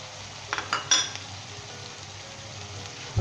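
Onions and spices frying in a pan for Lahori green chilli chicken: a steady low sizzle throughout, with a few brief clinks of a spoon against the pot near the start.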